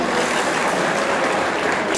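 An audience at a formal ball in Kroměříž applauds in a dense, steady wash of clapping with no clear pauses.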